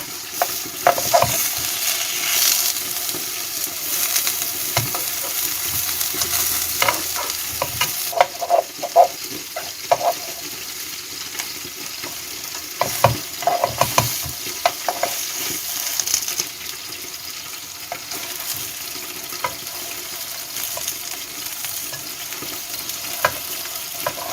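Aubergines frying in oil for a stew, a continuous sizzle broken by clattering utensil scrapes and turning sounds in irregular bursts, close and fairly loud, with no voices.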